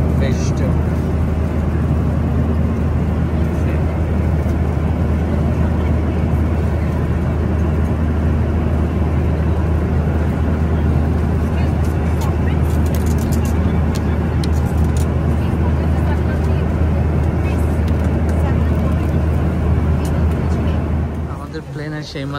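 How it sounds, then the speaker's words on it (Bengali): Steady, loud cabin rumble inside a US-Bangla Airways airliner just after landing in Guangzhou on a flight from Dhaka. It drones continuously without a break and eases slightly at the very end. "প্লেনে সেই মাত্র নামলো"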